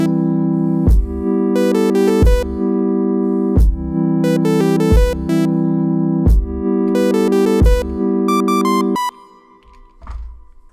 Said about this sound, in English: So I sidechained the chords to a kick and now it sounds like this.